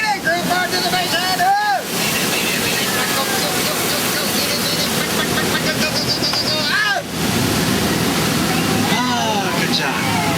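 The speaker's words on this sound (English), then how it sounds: "There's monsoons and there's rapids and there's waterfalls and waterfalls." A loud, continuous rush of falling water and churning spray surrounds a Disney Jungle Cruise boat in the jungle, with a guide talking excitedly over it and brief lulls in the roar.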